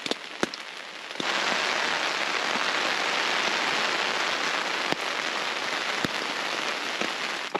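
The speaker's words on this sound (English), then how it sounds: "it's still raining" Steady, dense rain patters on a muddy tent on an Appalachian Trail thru-hike, a constant close hiss after a quieter opening second, with a few sharper drop hits standing out.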